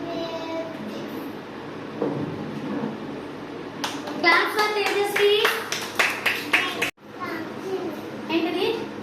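Nursery-school children clap for a classmate in a classroom, a short burst of rapid, uneven hand claps in the middle, with children's voices and teacher talk around it.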